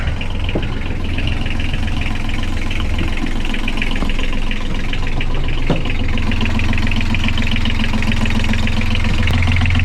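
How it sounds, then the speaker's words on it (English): A boat's engine, just fired up after a lithium battery installation, idles with a steady, close, even rumble that continues throughout. "I think I'm gonna try and fire up the engine."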